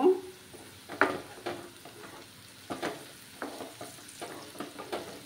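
Garlic fries in a pan for a coconut milk fish curry, giving a soft sizzle broken by scattered stirring scrapes and light clinks of a utensil against the pan, with no talking.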